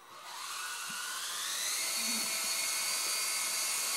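A small Chinese toy helicopter's electric motor whines up steadily, rising in pitch and loudness into a continuous high buzz as the rotors gain speed, heard close by.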